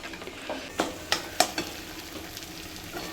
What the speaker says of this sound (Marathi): मसाला चांगला फ्राय झालेला आहे.